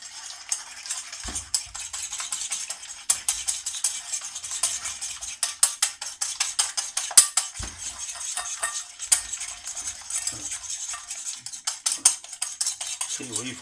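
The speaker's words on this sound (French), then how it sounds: "Et nous mélangeons. Voici. Bien mélanger." Pear cake batter mixed in a bowl, with a steady run of light clinks and scrapes as a utensil stirs against the sides, close and continuous with no talk.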